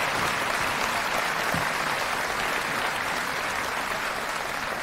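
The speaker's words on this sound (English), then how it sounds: "That deserves a round of applause." Audience applause fills a high school graduation ceremony, a dense, steady wash of clapping from a large crowd that holds evenly loud throughout with no voices rising above it.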